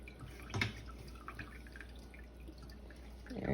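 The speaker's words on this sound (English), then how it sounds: "we're going to squeeze out the whey out of the curds, and it will form a ball." Whey drips from squeezed mozzarella curds, a faint close patter of a few soft drops and splashes, one clearer drip early on, over a quiet background hiss.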